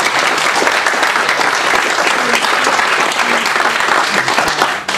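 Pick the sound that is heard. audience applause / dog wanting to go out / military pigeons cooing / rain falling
audience applause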